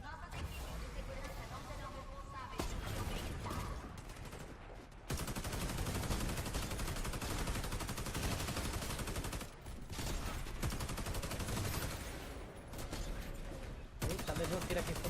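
Continuous gunfire rattles through a multiplayer shooter match, dense bursts and fusillades filling the scene with brief lulls, while players talk over it.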